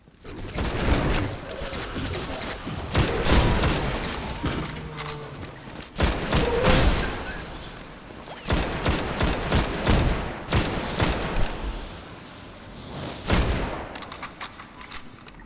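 Gunfire in Destiny, with repeated bursts of loud shots and booming blasts spread across the whole stretch, separated by short lulls and some faint birdlike cooing.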